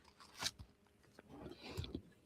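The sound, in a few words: chewing a big burger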